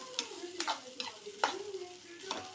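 Rice and beetroot being stirred in a pan, a faint sizzle beneath spaced clicks and scrapes of a spoon against the pan.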